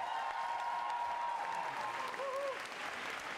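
Concert audience at Kino Šiška applauding steadily throughout, a dense even wash of clapping at moderate distance, with a brief sung or whistled tone near the start and some faint vocal sounds toward the end.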